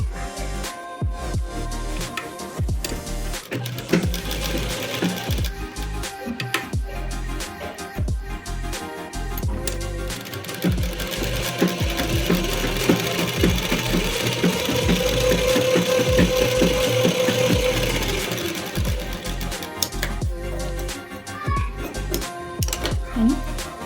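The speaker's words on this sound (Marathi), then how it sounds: "आपण तसंच शिवून घ्यायचं." A sewing machine stitches a blouse in a continuous fast mechanical whir that runs steadily and grows louder in the middle, with brief pauses and handling clicks near the start.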